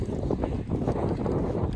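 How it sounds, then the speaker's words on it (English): Strong, steady wind roars and buffets the microphone beside a fishing pond. The gusting fills the whole stretch as a continuous low rumble, with no speech. "Wind just keeps picking up more and more."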